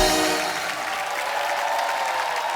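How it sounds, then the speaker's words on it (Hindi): An audience claps loudly and steadily at a comedy show, a dense continuous wash of applause that holds through the whole stretch and fades only slightly, with no clear voices. "अजय पाजी के लिए जोरदार तालियां"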